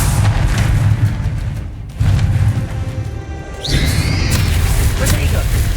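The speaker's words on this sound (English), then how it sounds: "Spellcasting bombarder." Spell blasts boom and crash in Hogwarts Legacy as the Bombarda spell explodes, heavy bursts with whooshing magical effects amid a loud, busy battle soundscape, with voices speaking at times.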